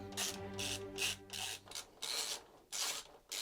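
Screws holding the power supply of a Lenovo ThinkCentre desktop computer are turned out with a screwdriver, giving a series of gritty, rasping bursts separated by short pauses, close up and fairly quiet, with no talking.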